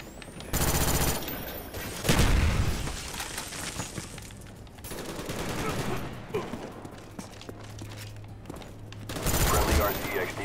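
Bursts of AK rifle fire ring out in Black Ops 1 multiplayer, sharp rattling volleys near the start and end with scattered shots and battle noise between, game voices occasionally heard underneath.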